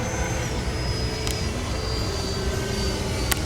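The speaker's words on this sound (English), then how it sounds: "damn if this jet doesn't fly amazing" An FMS Rafale 80mm electric ducted-fan RC jet flies overhead, producing a steady, broadband rushing whine that holds at a constant level through the moment with no talk.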